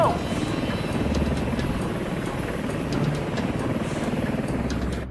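Helicopter rotor and engine roar filling the air during a sea rescue hoist of sailors by wire, a steady loud broadband wash with no break, close by and continuous throughout.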